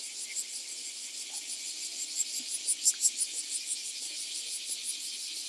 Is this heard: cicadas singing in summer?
yes